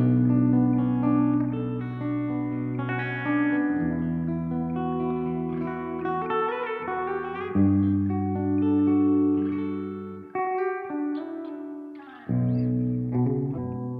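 A clean electric guitar plays sustained chords and single notes through a Laney Ironheart Foundry Dualtop solid-state amp with reverb. The notes ring loud and full with a lingering reverb tail, and no voices are heard.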